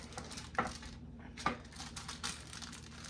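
Quiet crinkling and creasing of a baking liner's edge being folded over, a few soft crackly presses and rustles close by with small clinking touches.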